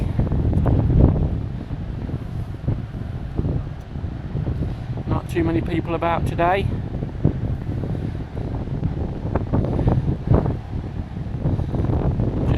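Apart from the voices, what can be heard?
wind blowing on the coast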